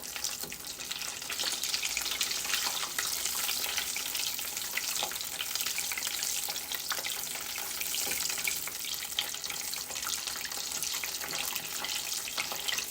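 Breaded mac and three cheese balls fry in hot oil with a steady, dense sizzle and crackle that stays loud and even throughout. No voices are heard.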